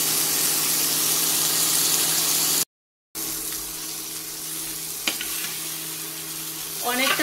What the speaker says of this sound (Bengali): মোটামুটি এটাকে 2-3 মিনিটের মতো ভেজে নিতে হবে।